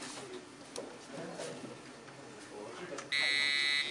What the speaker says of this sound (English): And now the alarm is ringing with a pattern on the LED also.